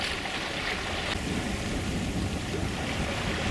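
Steady wind and washing waves surround a sailboat under sail on the open sea with a current running inbound, a constant broad rush without pauses or talk.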